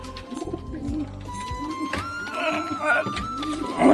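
An old domestic pigeon coos in soft repeated low throaty phrases close by, with a faint background tone and light thumps around it.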